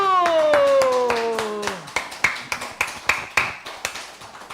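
Audience clapping after a healing song at a Korean health lecture on cancer: singing fades out and separate, evenly spaced claps follow, loud and sharp.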